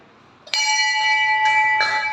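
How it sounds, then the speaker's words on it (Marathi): A metal bell in a garden in Baramati is struck and rings out with a bright sustained tone, hit again twice as it keeps ringing, close and loud. "पहिली घंटा वाजवली परत दुसरी"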